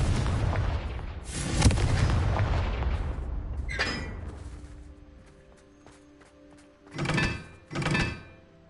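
A Confringo blast spell goes off in Hogwarts Legacy, a heavy booming explosion with a long rumbling tail, followed a few seconds later by two more sharp thudding impacts.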